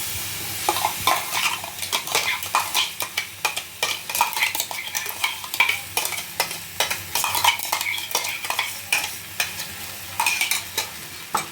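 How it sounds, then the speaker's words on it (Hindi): Mashed ripe bananas being stirred in a pan over a low flame for a fasting-style banana barfi: a steady run of close, rhythmic scraping strokes with a light sizzle underneath, no voices. "अब हम इसमें डाल देंगे अपने पिसे हुए केले"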